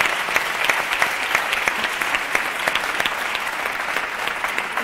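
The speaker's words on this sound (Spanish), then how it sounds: "a las que les pido que les deis un fuerte aplauso" An audience at a conference on cognitive accessibility applauds loudly and steadily, a dense, even clapping from a full room with no voices over it.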